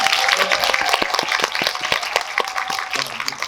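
An audience applauds in a Megabox cinema hall at COEX during a film talk event, a dense burst of many hands clapping close and loud, with voices mixed in.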